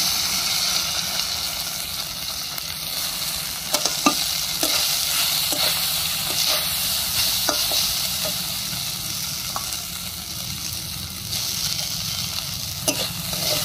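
Flattened rice (chira) goes into a pan with fried cashews for a vegetarian Bengali pulao, giving a steady close sizzle with repeated light scraping and stirring clicks throughout, and no voices.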